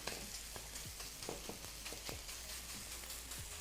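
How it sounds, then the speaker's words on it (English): Beef pieces coated in corn flour searing in a smoking-hot pan for a black pepper stir fry, giving a soft, continuous sizzle marked by scattered crackles and pops, heard alone. "Turn that around, sear the other side. You want to hear that sizzling sound"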